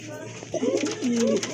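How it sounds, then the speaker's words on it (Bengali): A pink-beaked pair of Lotan pigeons offered for sale gives a brief, soft, close coo against a steady background hum. "গোলাপি ঠোঁটার এক জোড়া লটন কবুতর"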